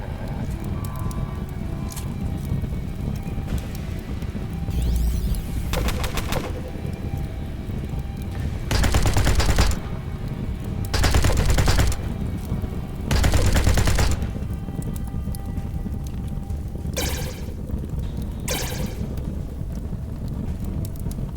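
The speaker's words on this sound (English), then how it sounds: "the light machine gunner fired and woke us up from that effect" Bursts of light machine gun fire from the game Underrail, several short rattling volleys spaced through a steady low background hum, each burst loud and broadband, with a few sharper single cracks near the end.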